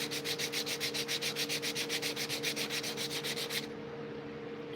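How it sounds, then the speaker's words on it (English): Sandpaper rubbed back and forth over a wooden sheath in quick, steady strokes, close and clear, with a constant low hum beneath; the scraping stops abruptly near the end. "I'll step up the sandpaper"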